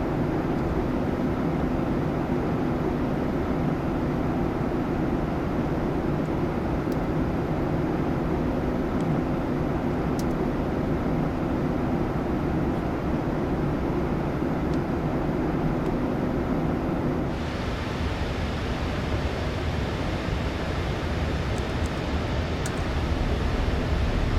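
Steady, loud jet engine roar from a Boeing 737 MAX 8-200 in Ryanair livery in Microsoft Flight Simulator 2024, a continuous drone with a slight shift in tone partway through, heard alone with no talking.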